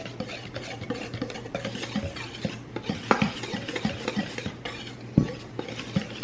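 Dry ingredients with salt and cinnamon stirred together in a bowl for muffins, with a steady run of scraping, clinking strokes close up and no talking.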